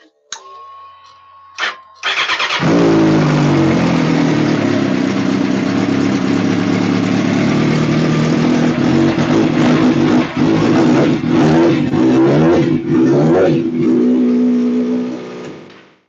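Kawasaki Ninja ZX636 sportbike with a replaced ignition: a few short clicks and a brief crank, then the engine catches and settles into a loud, steady idle with small revs, close by, before cutting off at the end.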